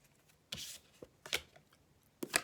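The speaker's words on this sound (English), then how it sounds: "Give me 2 more nice shuffles." Tarot cards shuffled by hand close up, giving three or four short, quiet riffling bursts separated by brief pauses.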